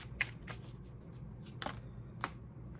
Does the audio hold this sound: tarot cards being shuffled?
yes